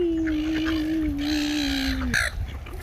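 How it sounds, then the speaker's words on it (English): A single drawn-out bird call, close and fairly loud, sliding slightly downward before breaking off, over low background noise. "Oh no, it's a seagull."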